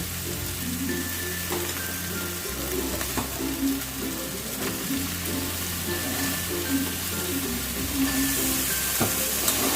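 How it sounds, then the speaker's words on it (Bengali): Fish heads and cabbage frying together in a pan give a steady, close sizzle that runs the whole time over a low background hum, with occasional faint stirring knocks. "এবার আমি বাঁধাকপিটা দিয়ে দেব"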